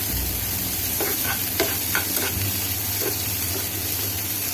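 Mixed vegetables with capsicum sauté in a pan, giving a steady near sizzle with several short scraping stirs of a spatula and no speech.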